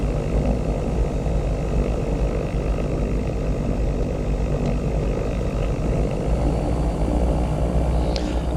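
Airplane engine in the FSPassengers flight simulator game rumbling steadily at idle during taxi, a loud continuous low drone with propeller hum and no talk.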